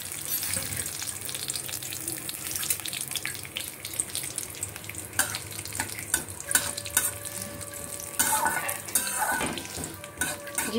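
Cumin seeds frying in desi ghee with carom seeds to follow, a continuous sizzle with frequent stirring scrapes and clinks of a utensil against the pan, close and busy throughout.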